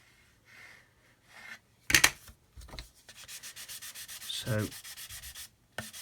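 A plastic Airfix 1/72 Vulcan model kit wingtip is being sanded in short rhythmic rubbing strokes, near and scratchy, with a sharp scrape and a brief spoken word.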